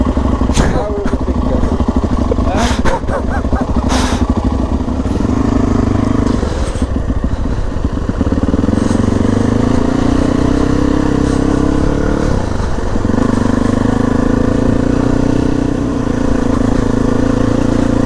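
Honda CRF dirt bike climbing an uphill off-road section, its engine droning loud and steady throughout with revving surges and some clattering, close to the rider.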